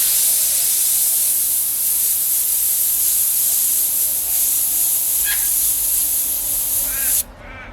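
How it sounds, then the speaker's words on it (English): Airbrush spraying paint in a steady, close hiss held about 3 centimetres from a freehand portrait to lay fine skin texture, continuous for several seconds before cutting off abruptly near the end. "So right now I've got my airbrush at about 3 centimeters away."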